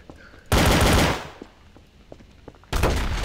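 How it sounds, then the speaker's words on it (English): Video game gunfire: a loud, close burst of rapid automatic shots, a pause with faint background noise, then a second burst, with no speech over it. "I'm just hearing the load of shooting now."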